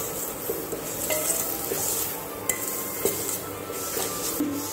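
Ingredients for a tomato mint chutney frying lightly in a pan, a constant close sizzle with occasional metallic clinks and scrapes of a utensil.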